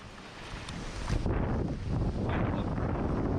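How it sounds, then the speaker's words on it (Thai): Strong wind sweeps across a beach at Thung Thale on Ko Lanta, Krabi, buffeting the microphone in a loud, continuous rushing roar that swells and gusts without any talking. "ลมพัดแรงมากตอนเนี้ย"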